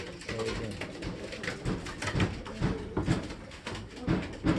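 A racing pigeon hen coos in a loft, soft repeated throaty coos pulsing at a near, moderate level, with rustling and shuffling around them.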